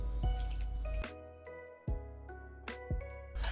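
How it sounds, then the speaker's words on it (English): Water is added to a pancake batter mix of egg and flour paste, heard as quiet, intermittent drips and splashes with short pauses between them, with no voices. "I'm going to add some water."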